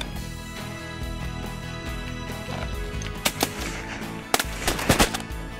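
Shotguns fire during a South Dakota duck hunt, several sharp blasts in quick succession in the second half of the clip, some overlapping, over an outdoor background hum.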